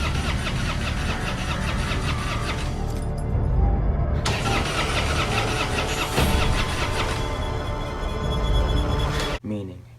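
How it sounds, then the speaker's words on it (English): A car engine cranks over and over but fails to catch, a loud, sustained grinding churn that cuts out near the end, with a voice talking over it. "she goes in her car, try to start it"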